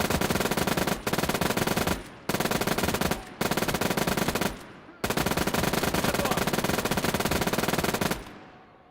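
A German MG42 machine gun fires in long, rapid bursts in the Gates of Hell video game, loud and close, with four sustained strings of shots separated by brief pauses and ringing tails.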